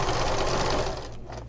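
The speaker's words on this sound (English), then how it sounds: "I'm going to sew across it just with a straight stitch back and forth a couple times" A sewing machine runs a straight stitch back and forth across fabric on a small stocking or cutlery holder, a steady close whirring hum that eases off near the end.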